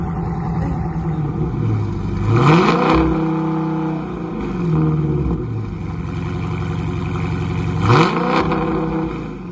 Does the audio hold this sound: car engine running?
yes